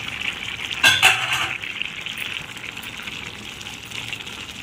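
Puri curry simmering in water in a cooking pan gives a steady bubbling hiss with a brief louder stirring burst near the start, then settles into a soft, even simmer with no voices.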